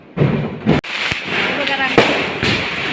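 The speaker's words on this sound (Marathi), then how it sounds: "फटाके फटाके फुटताय लागोपाठ" Diwali firecrackers go off in a rapid string of sharp cracks and pops, close and loud, while people talk over the noise.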